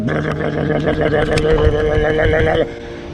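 A diesel engine on a work dock runs with a dense, rhythmic mechanical knocking and rattling, loud and close, then cuts out abruptly just before the end.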